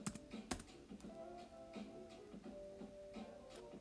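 A name typed on a computer keyboard: soft, irregular key clicks at close range over a faint steady hum, with no one speaking.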